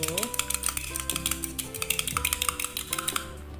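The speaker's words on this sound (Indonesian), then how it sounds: "Oke, kita aduk ya secara merata." Cake batter for crunchy kue kuping gajah being stirred in a bowl, a steady run of scraping and tapping of utensil against the bowl, close and continuous under background music.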